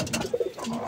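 A domestic pigeon coos briefly at close range in a backyard coop shared with country chickens, a soft low warble over steady background noise.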